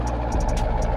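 A Jeep SRT with a 6.4-liter engine and Borla Atak exhaust idles with a steady, deep low rumble and faint pulsing, close and continuous throughout.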